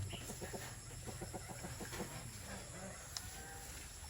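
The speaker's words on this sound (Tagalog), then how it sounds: "Yung mga manok." Chickens cluck nearby in a quick series of short calls, fairly quiet against a steady background hiss.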